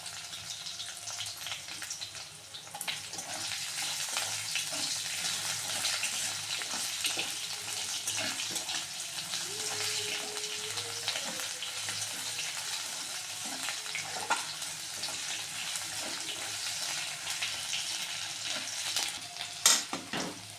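Chopped garlic and ginger sizzle steadily in hot oil in a pan where dried red chilli has already fried, an unbroken crackling fry for about twenty seconds with occasional stirring scrapes and no talk.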